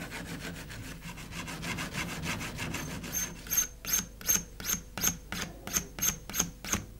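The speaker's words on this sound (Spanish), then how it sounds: "cantearlas con una angulación de unos 45 grados mediante el uso de la lima, el rascador y el bruñidor" A file rasps along the edges of a metal etching plate, bevelling them to about 45 degrees. Steady back-and-forth strokes start dense and quick, then become a slower, evenly spaced rhythm of crisp close scrapes.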